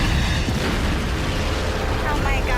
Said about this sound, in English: plummet 350 feet straight down into a fiery explosion